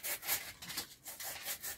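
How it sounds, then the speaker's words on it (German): A blade being sanded all the way around, a steady back-and-forth rubbing rasp in rhythmic strokes, close and fairly quiet, with no voices. "Auf jeden Fall muss ich jetzt erstmal rundherum hier die Klinge schleifen."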